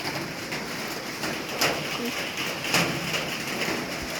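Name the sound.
rain falling at home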